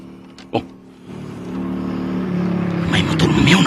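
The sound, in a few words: motorcycle arriving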